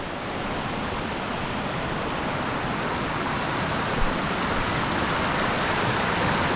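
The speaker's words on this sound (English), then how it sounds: "Quite a pretty creek." A pretty mountain creek along a hiking trail to Pratt Lake rushes steadily, a dense, even wash of flowing water close by, with no voices.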